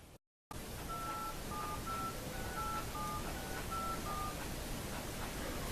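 A run of telephone keypad tones, about nine short evenly spaced beeps, plays over steady hiss after a brief dropout at the start, as someone dials a 1-900 number on a cell phone.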